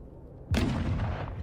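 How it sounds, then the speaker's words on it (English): An artillery shell lands in a compound during the war in Ukraine: after a quiet moment comes one sudden, fairly distant boom, followed by a rumbling, echoing tail that slowly fades. "here comes the next shell, landing way up in the compound"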